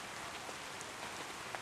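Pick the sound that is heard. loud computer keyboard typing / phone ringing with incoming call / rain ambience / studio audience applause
rain ambience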